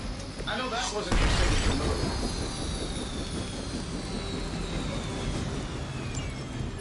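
A helicopter is brought down during a battle against Hydra thugs in the video game Midnight Suns, with a sharp crash and shattering burst near the start, then a rushing engine roar and debris noise that carries on to the end.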